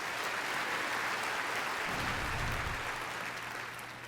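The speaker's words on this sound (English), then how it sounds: "I think that's worthy of applause." Sustained applause from a large audience at a NASCAR awards ceremony honoring driver Denny Hamlin, dense and steady throughout, tapering slightly at the end.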